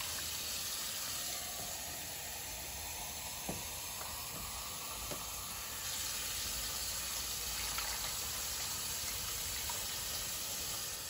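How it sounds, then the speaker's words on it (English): Tap water running steadily into a pot for corned beef and cabbage, four cups measured with a two-cup measure, a constant hissing stream that carries on alone with no talk. "we have to add 4 cups of water"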